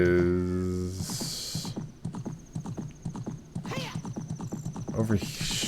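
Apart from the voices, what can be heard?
horse (Epona) neighing and hooves in Zelda Ocarina of Time video game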